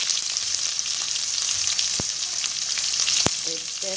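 Green chili and red pepper stir-fry in a hot pan for iskabetchi, a continuous close sizzle with a couple of sharp utensil knocks and scraping stirs.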